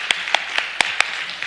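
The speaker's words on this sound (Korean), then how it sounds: "박수 한번 쳐주시고요" At a Friday family prayer meeting in a church, a handful of sparse, sharp claps ring out for children's dance performance, about six distinct hits spaced unevenly over a quiet room.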